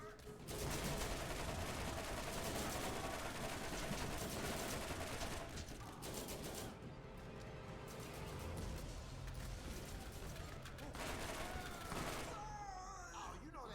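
Gunfire in the video game Borderlands, with sustained rapid bursts of shots over several seconds, dense and loud, a brief lull mid-way, then more firing.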